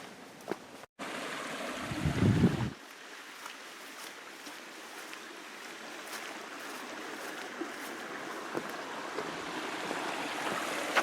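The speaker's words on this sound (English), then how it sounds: "I believe I can hear some water flowing up ahead." A woodland stream flowing along a hiking trail on Wisconsin's Ice Age Trail gives a steady, soft, distant wash of water, with a brief low thump early on and no talking.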